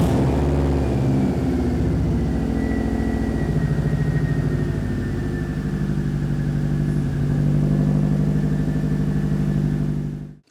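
A 2002 Subaru WRX engine runs at a steady, loud idle up close just after starting, a continuous low rumble with a faint whine that holds evenly until it cuts off abruptly at the end.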